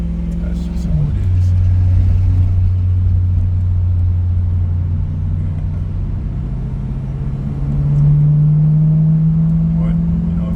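A straight-piped BMW E92 M3 with a dual-clutch transmission drives through slow Massachusetts traffic, its exhaust giving a loud, deep, steady drone with a gear change near the start and a rise in pitch later on.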